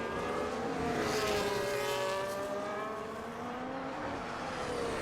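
A pack of race cars in a racing video game roars past in a Baku sprint race, engines blending into a loud continuous whine with pitch rising and falling as they speed along, no voices.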